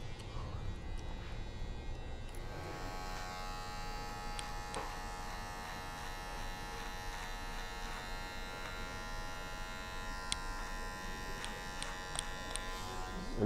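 Electric hair clipper buzzing steadily as it trims down a full, unruly beard at an angle, a close, continuous motor drone with faint clicks and no talking.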